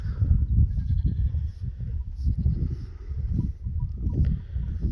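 Goats, including a pregnant doe close to kidding, make low, rough bleating and grunting sounds that rumble steadily throughout, close by in a farm setting.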